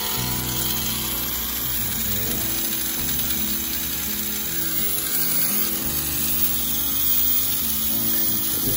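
Tamiya Mini 4WD car with MA chassis running its small electric motor after being switched on, a loud continuous high-pitched whirring buzz with rattling gear noise, steady and close throughout with no talk.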